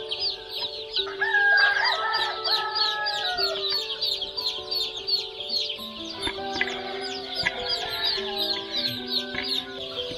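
Thousands of day-old Ameraucana chicks peep in a dense, continuous chorus of high chirps, with lower clucking-like calls scattered throughout; no talking.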